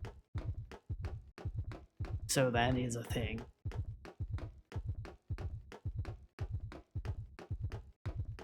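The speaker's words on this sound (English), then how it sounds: "we are hearing, you know, heartbeat and footsteps" A slow, steady heartbeat thuds in Illbleed with regular paired beats throughout, accompanied by soft footstep-like pulses, while someone briefly talks over the middle.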